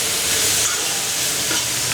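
Onions sautéing in a pan with oil, a loud, close, steady sizzle and hiss that continues unbroken throughout without any talking.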